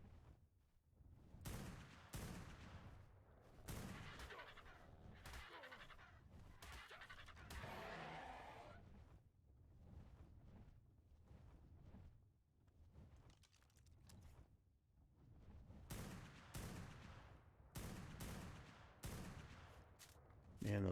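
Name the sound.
gunfire shooting in Ark Primal Fear video game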